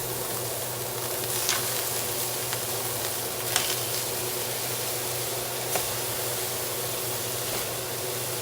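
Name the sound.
searing beef in a pan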